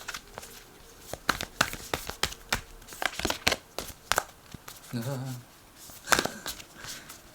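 Tarot cards being shuffled by hand, a run of sharp riffling flicks and papery slaps in an uneven rhythm, close and fairly quiet, with a brief low hum partway through.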